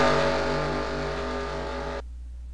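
Race cars on the Utica home track during a Royal Rumble series race, a loud steady engine drone with dense harmonics that cuts off abruptly near the end.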